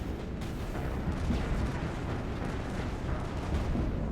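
Grenade explosions in the Mass Effect video game boom and rumble continuously, a dense, loud wash of low blasts with no pauses and no voices over it.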